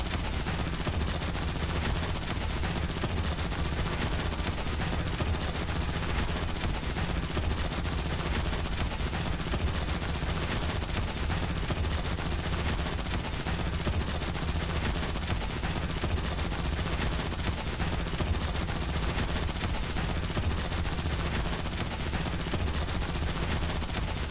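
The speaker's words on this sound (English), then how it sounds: "The enemies instantly shift their aim and unleash a relentless barrage toward Vector." Relentless enemy gunfire barrage from the video game Girls' Frontline 2: Exilium: dense, continuous rapid shots filling the clip at steady high intensity with no pauses and no talk.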